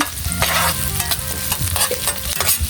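Onions sautéing in a pan with garlic, crackling and sizzling loudly up close while a utensil scrapes and stirs in repeated strokes, no voices.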